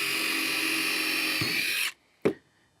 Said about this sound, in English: And I'll pre-drill one hole first.